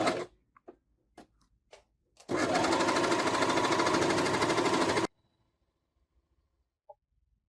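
A Rubina 4564 sewing machine stitching, a steady fast mechanical chatter lasting about three seconds at close range, preceded by scattered clicks and followed by quiet.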